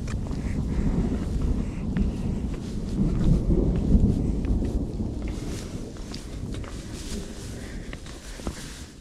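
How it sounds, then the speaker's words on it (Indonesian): Thunder rumbles low and continuous through a rainstorm on Mount Lawu via the Cetho route, with heavy wind buffeting and rain noise throughout. "Suara guntur menyambar-nyambar."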